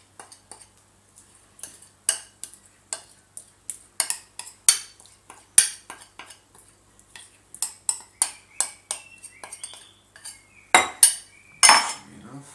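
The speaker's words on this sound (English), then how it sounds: "Give this a good mix." Protein bar mixture being mixed in a bowl, with a spoon clinking and scraping against the sides in a steady run of sharp, close taps that grow louder toward the end.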